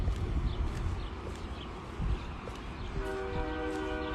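Train horn sounding outdoors near the corner of a building, a steady multi-tone blast entering partway through over loud rumbling traffic and wind-like noise.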